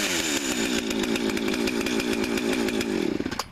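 A chainsaw engine roars steadily at close range, a dense buzzing drone with a fast ragged pulse, then sputters and falters in the last half second. No one speaks.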